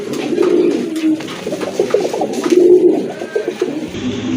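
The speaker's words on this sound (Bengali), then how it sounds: "মাকড়া চোখের কবুতর এটা কিন্তু আপনার গড়রা কবুতর" Pigeons kept for sale coo loudly and close up, a continuous run of low throaty rolling coos with no speech over them.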